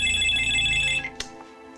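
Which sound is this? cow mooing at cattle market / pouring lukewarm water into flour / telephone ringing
telephone ringing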